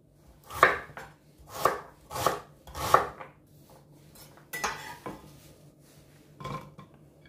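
Ginger and pineapple are rough-chopped on a board, a series of firm knife thuds about once a second, then a few scattered, lighter cuts and scrapes, close and moderately quiet.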